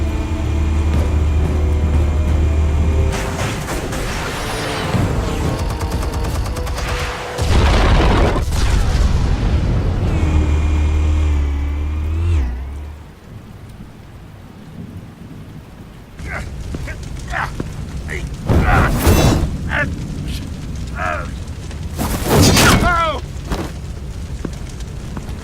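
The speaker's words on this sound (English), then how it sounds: "Explosives armed. Fire when ready." Explosives detonate in the video game Batman: The Telltale Series, heavy booms and rumbling blasts with a rushing, fiery roar, broken by a quieter stretch, then more bursts and crackling debris.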